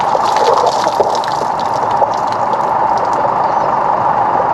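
Water gushes loudly and steadily into a tank at a campsite near Gin Gin, a close, continuous rushing fill with faint splashy flickers on top.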